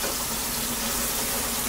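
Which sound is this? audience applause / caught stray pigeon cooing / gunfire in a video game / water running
water running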